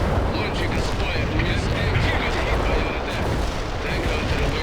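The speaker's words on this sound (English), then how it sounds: "Launching an AT missile." A battle in the video game World in Conflict, with an anti-tank missile launch and gunfire forming a dense, continuous roar of artillery booms and shots, with voices speaking over it.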